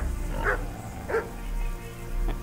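Dogs in the medieval video game Kingdom Come: Deliverance give about three short barks spread over a couple of seconds. They sound moderately close against a steady low ambient hum.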